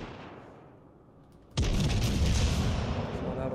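Naval gunfire in the World of Warships Legends game, a single loud boom that cuts in suddenly and rolls on as a dense rumbling roar, following a quieter stretch of background game noise.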